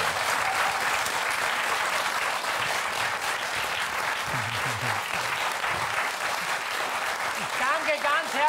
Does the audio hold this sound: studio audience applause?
yes